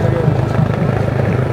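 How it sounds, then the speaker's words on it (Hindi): A steady low rotor-like drone of a helicopter fills the background at a political rally, fairly close and continuous, with crowd chatter and voices over it. "ये हेलीकॉप्टर जो आ चुके हैं यहाँ पर"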